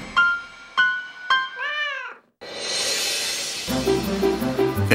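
American Curl kittens meow several times in quick succession, close and clear, followed by a rising rustle and soft thumping as they scamper through a New York apartment hallway.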